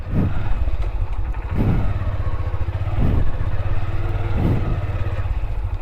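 A motorcycle is backed up on a sandy, bumpy road, its engine chugging steadily and fairly loud nearby, with periodic surges roughly every one and a half seconds as it labors over the uneven sand.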